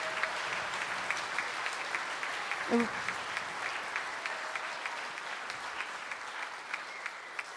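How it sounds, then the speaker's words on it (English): An audience applauds the 8th grade band at a school spring band concert, moderately distant clapping with individual hand claps audible and a brief voice partway through, thinning toward the close. "So let's give them all a round of applause"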